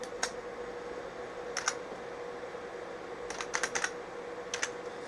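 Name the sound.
typing on a computer keyboard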